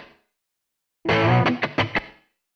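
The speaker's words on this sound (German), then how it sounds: "nochmal das andere Hallgerät. Ja, metallischer Nachhall." Guitar notes run through a cheaper reverb unit, leaving a metallic, somewhat artificial hall tail; a short burst of strummed chords followed by a few fading accents, loud and close, with no voices.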